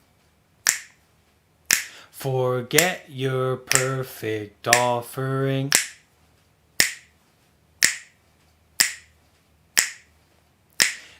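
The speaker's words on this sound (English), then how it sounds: "you can snap your fingers to join in" An audience at a live Buddhist meditation session snaps fingers in rhythm, with crisp, evenly spaced snaps about once a second and a sung line briefly over part of it.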